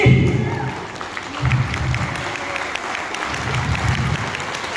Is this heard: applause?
yes